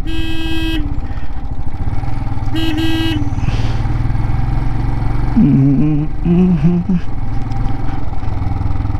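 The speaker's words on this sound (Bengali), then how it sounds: "সাবধানে বাইক চালানোর চেষ্টা করবেন" A motorbike rides slowly on the mountain road from Leh to Khardung La Pass. A steady, close engine drone runs throughout, broken by several short horn toots, with faint voices in the mix.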